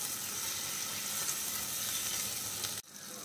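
Onion, tomato and green chili sauté in a pan for fish biryani, giving a continuous close sizzle that cuts off abruptly near the end.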